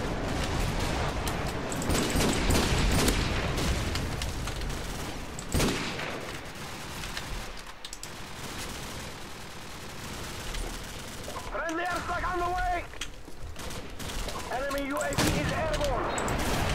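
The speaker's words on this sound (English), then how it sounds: "that was a good wee flurry there with a shotgun" Shotgun fire in Call of Duty 4 multiplayer: continuous dense battle noise with repeated gun blasts and booming impacts throughout, loud and busy, with warbling tones appearing in the later seconds.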